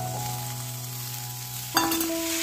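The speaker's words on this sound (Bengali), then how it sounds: "এই দেখো আমার এদিকে আলু কষানো চলছে" Potatoes with peas sauté in a pan for a breakfast curry, a faint steady sizzle under a low hum, then a brief clatter of stirring.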